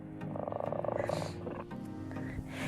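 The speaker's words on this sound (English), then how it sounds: "I hear a kitty." A cat purring close by, a steady low rumbling rhythm that continues throughout with a few faint background noises.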